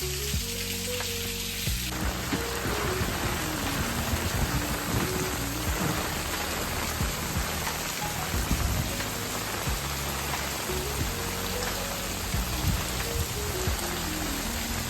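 Steady rain pours down throughout at the Bhaje Caves near Pune, a dense hiss of drops with some low rumbling and patter underneath; no one speaks.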